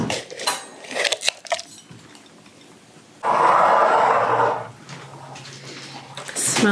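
Pasta being stirred into meat sauce in a pot, with a dense second-long scraping, sloshing burst midway and quieter clinks around it, while people talk before and after.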